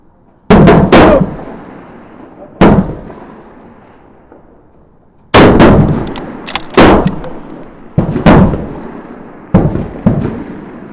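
Bolt-action rifle shots at an outdoor shooting competition in Thun, a handful of loud sharp cracks spaced a few seconds apart, each trailing into a long echoing decay across the range, with no talking.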